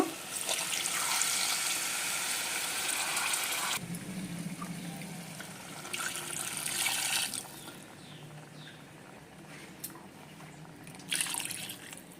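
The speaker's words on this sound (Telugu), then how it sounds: "ఇప్పుడైతే వాటర్ పోసేసుకుందాము" Several glasses of water are poured into a pot of country chicken curry, a rushing splashing stream in a few separate bursts with quieter gaps between, close by.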